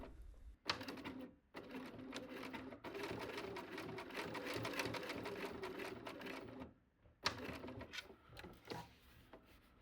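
A sewing machine stitches along the handle of a bag, close to the edge, in rapid mechanical bursts. The needle runs steadily for several seconds, pauses, then restarts, with clicks and handling noises between runs.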